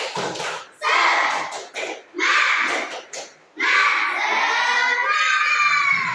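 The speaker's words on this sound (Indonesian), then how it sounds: "Tepuk semangat." Schoolchildren in a classroom chant and clap a rhythmic spirit cheer in loud, close bursts, their voices rising together and breaking off between phrases.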